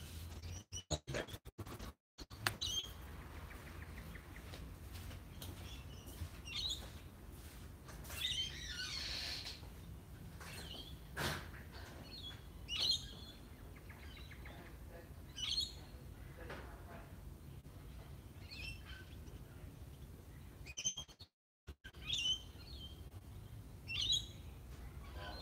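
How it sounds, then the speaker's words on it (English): Pigeons and willy wagtails calling outdoors in the morning, scattered short chirps and tweets at a distance over a quiet, faint background with occasional handling noise. "You can probably hear the birds."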